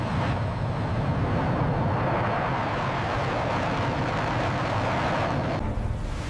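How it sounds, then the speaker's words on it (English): A Growler electronic warfare jet flies overhead with a steady, loud, broadband roar that holds unbroken from start to finish, with no voices over it. "Growler electronic warfare jet blinding enemy defenses."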